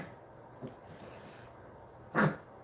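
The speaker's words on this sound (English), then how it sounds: "she starts barking" A dog gives a couple of short, muffled barks or yips, one faint and a louder one later, against a quiet room background.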